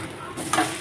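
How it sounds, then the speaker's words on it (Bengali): Chopped garlic and black cumin sizzle in hot oil as a tempering, a brief crackling hiss that swells loudly near the end with a stirring sound. "যে রসুন আর কালো জিরে ফোড়ন দিয়েছি।"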